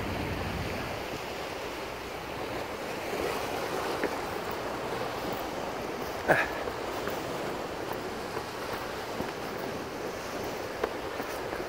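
Steady surf and wind wash along the rocky Jungni coastline, a broad continuous roar with a brief sharper knock near the middle.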